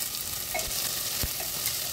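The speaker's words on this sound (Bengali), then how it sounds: "আলুটা দিয়ে দেওয়া হলো। রান্না বান্না করতে গেলে এতটুকু ঠিক আছে, ভালো করে কষিয়ে নিচ্ছি।" Potatoes sautéing in oil in a pan for a cabbage curry, a loud steady close sizzle with a couple of dull stirring knocks, with no talk.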